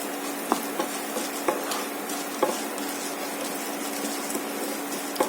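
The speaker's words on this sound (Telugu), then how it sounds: "జీలకర్ర కూడా వేసి చేయండి" Cumin seeds frying in a pan give a steady, low sizzle with light stirring scrapes and a few sharp clicks of a utensil against the metal, continuous and close with no talking.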